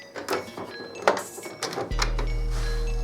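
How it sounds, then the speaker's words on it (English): The cartridge cradle of an HP Deskjet D1360 inkjet printer clicks and rattles briefly, then settles into a steady, close mechanical motor hum that carries through to the end. "Now the cartridge cradle will move into the printer as so we can access the cartridges"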